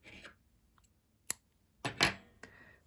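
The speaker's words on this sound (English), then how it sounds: "you pull up your loop and you cut off your yarn" Scissors snip off crochet yarn in a few sharp, separate cuts: one crisp snip, then a quick double clip with a faint follow-up, close and quiet with no talking.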